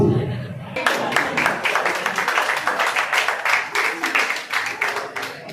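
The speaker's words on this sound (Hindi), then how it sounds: "जोरदार तालियों" Crowd applause, dense rapid clapping that starts abruptly and continues steadily, with a faint voice underneath at the start.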